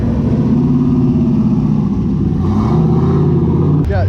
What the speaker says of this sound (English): Got some drifting going on now.